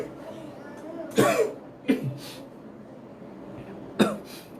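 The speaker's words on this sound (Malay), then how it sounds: "Batuk sikit malam ni, banyak minum ais." Three short, sharp coughs spaced a couple of seconds apart, close to the microphone over a quiet background hum.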